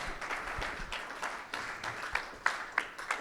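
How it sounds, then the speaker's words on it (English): Scattered applause from a small live audience at a political talk event, a soft wash of clapping with a few sharper individual claps standing out near the end. "give yourself a round of applause for that"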